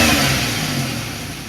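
A 2006 Grand Prix engine idles in place with a steady, close mechanical rumble and hum that holds constant throughout, with no speech over it.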